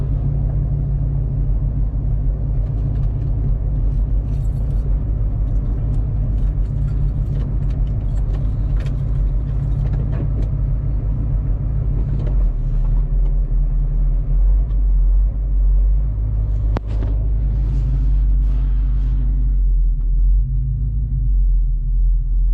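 A 1965 Volkswagen idles and rolls into a driveway, its low, steady engine rumble continuous and close, with faint rattles and a slight shift in tone near the end as it settles.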